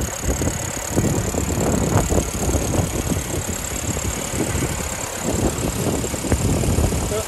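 A Land Rover 2.25-litre four-cylinder military engine in a 1981 Lightweight idling nearby, a steady lumpy chugging rumble with a regular knock, running evenly with no other sounds.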